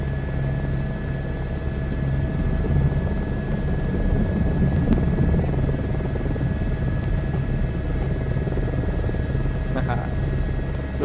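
A helicopter in Microsoft Flight Simulator 2024 lifts off from the bush, its rotor and turbine making a steady loud droning whir that holds across the whole takeoff.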